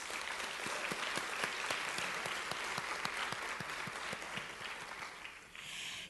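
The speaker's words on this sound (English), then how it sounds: "let's give them all another round of applause" Steady applause from a ceremony crowd at a 2013 congressional celebration of Asian Pacific American Heritage Month, the clapping fairly soft and even before it thins out at the end.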